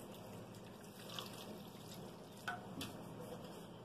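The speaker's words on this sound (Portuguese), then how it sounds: "Eu vou colocar 1/2 litro de água aqui." Half a litre of water poured onto finely grated soap, giving a soft, steady splashing wash that runs quietly throughout.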